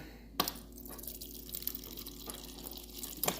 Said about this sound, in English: Anyway, water.